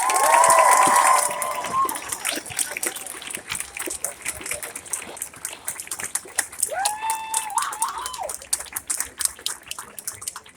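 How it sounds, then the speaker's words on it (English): A loud burst of cheering and whooping from a rally crowd, followed by sustained scattered applause and intermittent shouts of voices over the clapping. "Give a round of applause for Black Boston,"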